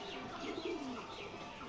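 Giribaz pigeons cooing, a single soft, low coo rising and falling briefly, near but quiet against a faint background hiss.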